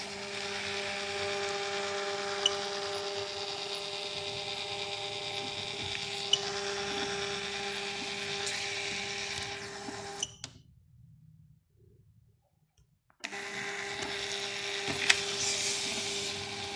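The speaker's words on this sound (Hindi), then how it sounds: "प्रिंट की कमांड दे रहा हूँ, ये यहाँ से आपका प्रिंट आ गया।" Yonker 3-channel ECG machine printing a report, a steady whirring, buzzing printer mechanism with faint ticks, stopping for a few seconds of near silence before resuming.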